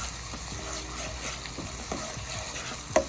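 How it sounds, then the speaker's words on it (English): Garlic, shallots, scallions and chopped red pepper sizzle steadily in a pan over medium heat, a continuous frying hiss with faint stirring scrapes and one small clatter near the end. "saute your garlic, shallots, scallions, and chopped red pepper"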